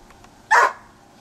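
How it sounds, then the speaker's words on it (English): A single short dog bark, fairly close and clear, against a quiet background. "And the doggie's barking."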